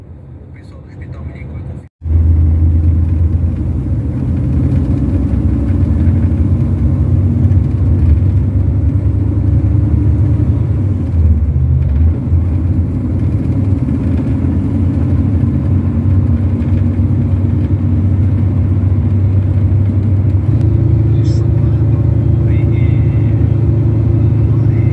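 The engine of an Itapemirim long-distance coach idles at a refuelling stop in Açailândia, Brazil, with a loud, steady low rumble. It starts abruptly after a brief drop and continues under murmured voices.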